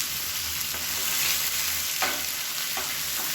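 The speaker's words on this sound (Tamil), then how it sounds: "இந்த வெங்காயம் மட்டும் நல்லா வதக்கணும்." Onions sautéing in a pan for sambar give a steady, close sizzle with a few soft scraping stirs breaking through, and no voices.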